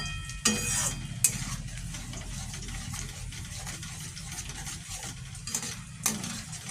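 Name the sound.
cashew paste gravy simmering and being stirred in pan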